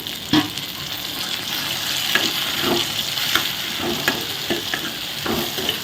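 Steady loud sizzling of onions frying in a pan as tomato goes in for a fenugreek curry, with scattered spatula scrapes and stirring clicks over a continuous hiss and no talk.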